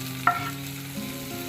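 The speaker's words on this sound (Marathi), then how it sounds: "कांद्याला हलक्या गुलाबी रंगावर चांगलं भाजून घ्यायचं आहे" Chopped onion fried in a pan and stirred, a short scrape of the spoon over a steady low sizzle, with faint background music and no voices.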